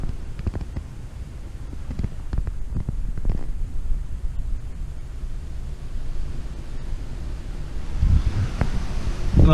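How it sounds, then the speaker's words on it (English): Strong wind blows across an open hilltop at a WW1 anti-aircraft battery site, roaring steadily with gusty buffeting against the microphone throughout. "it's really windy today"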